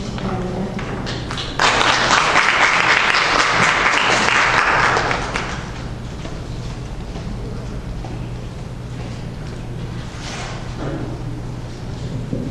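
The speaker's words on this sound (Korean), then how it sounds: "따뜻한 박수로 감사해 주시기 바랍니다." An audience at a seminar on stress-coping skills for immigrant families claps warmly: a loud burst of applause for several seconds that fades into room murmur and low background noise.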